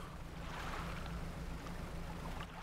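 A fishing boat in the game DREDGE reverses away from a rock with a steady low engine rumble and a soft water wash, moderately quiet and unbroken, with no voices.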